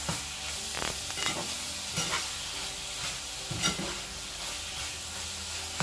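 A spoon stirs moussaka sauce in a saucepan, scraping in steady repeated strokes over a continuous low sizzle. The sound is close and even, with no voices.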